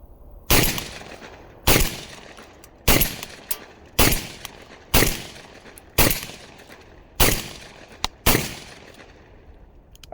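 MAC 1014 shotgun firing eight sharp, loud blasts spaced about a second apart, each cracking report followed by a brief ringing decay, outdoors with no voices.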